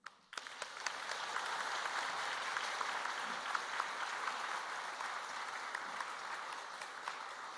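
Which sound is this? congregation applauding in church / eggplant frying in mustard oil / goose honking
congregation applauding in church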